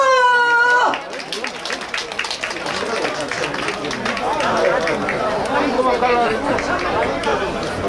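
Audience applause and cheering rise at an outdoor Korean cherry blossom festival during a pumba singer's stage performance in Mungyeong Jeomchon, a steady crowd roar of claps and chatter lasting several seconds after a short spoken lead-in.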